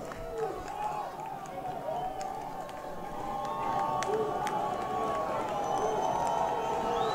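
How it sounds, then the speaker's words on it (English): Loud crowd noise at a college football game between Averett and Maryville, a broad roar of cheering and shouting that swells partway through, under an announcer's commentary. "So the crowd loud, the sideline loud."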